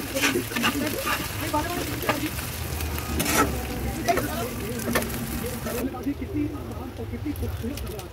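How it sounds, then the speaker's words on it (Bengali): Ginger and garlic frying in a pan over a high gas flame, with a steady close sizzle and occasional stirring scrapes throughout, while a voice speaks over it. "আদা রসুনটা আমাদের ভাজা হয়ে গেছে"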